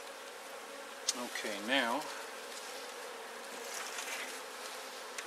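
Honeybees buzz around an open-air hive, a soft steady drone with one insect swooping close in a rising, wavering hum; someone speaks briefly over the buzzing.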